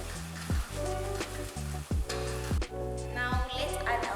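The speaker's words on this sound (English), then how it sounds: "Now let's add our flour to our melted butter." Flour is whisked into melted butter in a pan for mushroom soup, giving a steady close sizzle broken by repeated scraping and stirring strokes at a fairly even pace.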